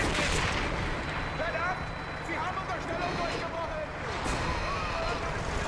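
Enemy gunfire in the World War II shooter Medal of Honor: Vanguard, on hard difficulty: dense, continuous shots and blasts under a busy battle din, with talking over the top.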